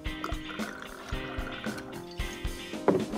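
Tequila and vodka poured into a glass for a Long Island iced tea, a close trickling and gurgling pour with soft repeated clinks and low rumbling handling noise.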